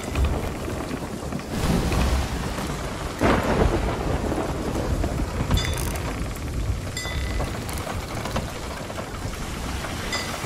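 Thunderstorm in the pirate video game Sea of Thieves, heard from a ship at sea: steady, loud rainfall hisses throughout while deep rolls of thunder rumble and crack, with no talking.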